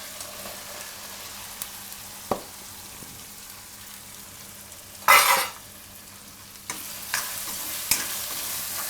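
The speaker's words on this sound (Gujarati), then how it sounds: "ડુંગળીને થોડીક વાર પાકવા દેવું તેલમાં જ, આમાં જ મસાલામાં." Onion fries in oil with spices for palak paneer, making a steady low sizzle, with scattered scrapes of a spoon stirring and one loud burst of hissing splatter midway.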